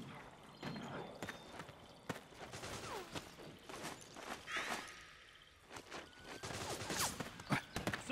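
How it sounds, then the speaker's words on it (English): Gunfire in Metal Gear Solid 4: Guns of the Patriots, a string of sharp, irregular shots and bursts over busy battlefield background noise, some near and some farther off, with faint voices underneath. "Suppressing fire!"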